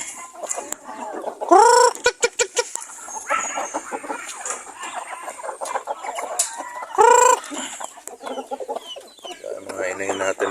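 Hens clucking in a backyard flock of chickens, with ducks nearby: repeated close clucks and two loud drawn-out squawking calls, mixed with scattered pecking and rustling while someone talks intermittently.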